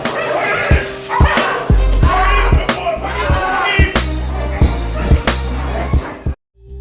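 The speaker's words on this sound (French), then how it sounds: "Quelle endurance faut-il pour servir de punching ball à une meute de chiens féroces?" A pack of fierce dogs attacking a man used as a living punching bag, with loud repeated barks and snarls in quick bursts, heavy thuds and slaps from the struggle, all close and intense.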